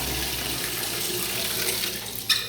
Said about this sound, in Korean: 물도 잘 나오고요